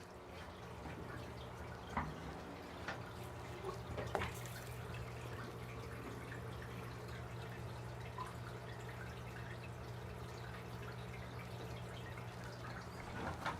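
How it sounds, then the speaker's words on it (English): Fish tank water drips and drains during an aquarium water change, a few sharp drips and splashes popping out of a steady low hum and trickle. "That's fish tank water and nothing else."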